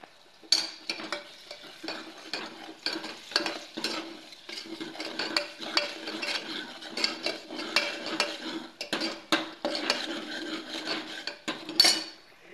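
Raw mutton is washed by hand in a metal vessel, then dropped into a cooking pot, giving a steady, close run of rhythmic rubbing, scraping and clinking strokes.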